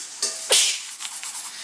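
A single sharp sneeze bursts out indoors at a home school table, brief and fairly close, followed by faint rustling and quiet room sounds.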